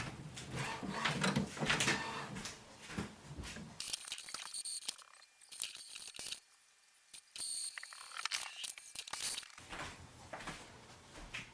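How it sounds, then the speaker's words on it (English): An Epson WF-7310 printer runs a print head cleaning cycle, giving bursts of mechanical whirring, clicks and clunks broken by short quiet pauses, moderately faint, with no talking. "So we have to do print head cleaning so that the ink starts to flow through the print head"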